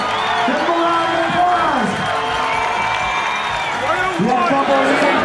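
Spectators crowd the hillside at the 2009 CrossFit Games, cheering, whooping and clapping steadily as a runner comes through during the men's 7K run; continuous loud crowd noise with shouts rising and falling, voices mixed in.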